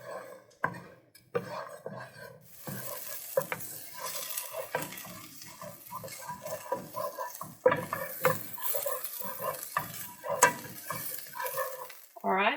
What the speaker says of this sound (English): I'm going to add in our onion, and we're going to start sweating out our onion here.